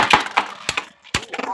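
Beyblade spinning tops collide hard in a battle arena, a few sharp, close, cracking hits scattered irregularly with brief gaps between them.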